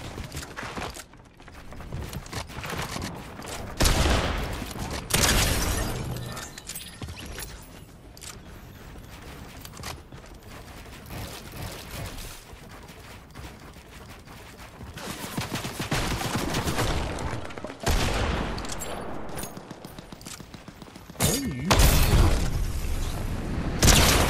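Rapid bursts of gunfire in a Fortnite match, repeated volleys and booming shots rising and falling across the stretch with brief quieter gaps, loud and close with no talking.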